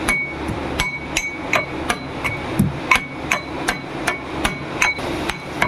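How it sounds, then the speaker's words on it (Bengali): Garlic is crushed with a mortar and pestle, a close series of sharp, regular pounding knocks, roughly two per second, with no talking. "প্রথমে আমি রসুনটাকে আগে খুব ভালো করে থেতো করে দেবো"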